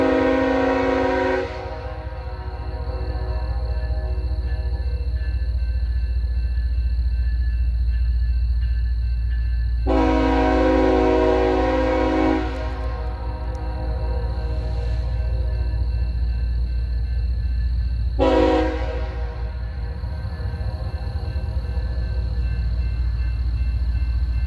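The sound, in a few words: BNSF empty coal freight train passing, sounding horn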